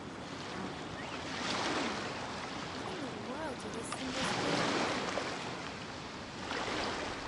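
Ocean waves rolling in Genshin Impact, a steady broadband wash that swells and recedes in a few slow surges, with a voice talking over the surf and some wind.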